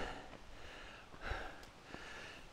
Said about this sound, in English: as you look at the terrain and you hear my breathing increase